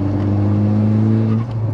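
A 470 bhp manual Mk6 Volkswagen Golf R engine rumbles loudly and steadily close by, a deep throaty idle that swells slightly as it revs.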